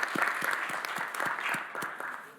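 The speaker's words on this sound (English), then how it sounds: "can we just go ahead and give him a round of applause for that?" A modest round of applause at a community committee meeting honoring a newly earned Eagle Scout, scattered individual claps from a small group, fairly quiet and brief with distinct hand strikes.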